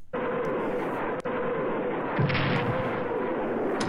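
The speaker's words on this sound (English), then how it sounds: "So we're going to fire with the Katyushas." Katyusha rocket artillery fires in the Strategic Command WW2 strategy game, a loud sustained roaring rush of launches with a sharp crack partway through, close and continuous, with no voice over it.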